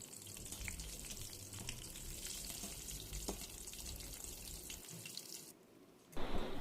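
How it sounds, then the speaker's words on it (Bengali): Dal puri, rolled lentil-stuffed flatbread, fries in hot oil in a wok with a steady, dense sizzle and crackle that runs throughout, changing briefly near the end. "এখন পুরিটাকে বেলে গরম তেলে ছেড়ে দিব।"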